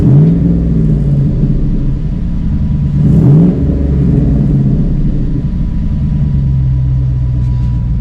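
A Cobra Daytona replica's engine idles with a steady, deep rumble through its new exhaust, close and continuous, with a brief swell in the middle before it settles back into an even burble.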